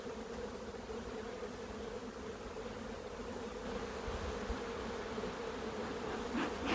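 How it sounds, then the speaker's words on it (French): Honeybees buzz densely across a hive frame during a swarm-prevention hive inspection, a steady close humming drone that swells slightly louder toward the end, with no talk. "on a un beau tapis d'abeilles."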